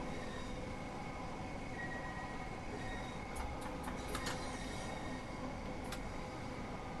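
A Class 395 electric train in the Train Sim World 2 game rolls past with a continuous rumbling rail roar and faint high wheel squeals, no voices over it.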